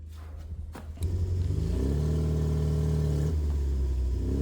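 A Triumph Spitfire engine fires up loudly and close on a test drive, a few clicks giving way to a steady deep rumble that rises and settles as it revs.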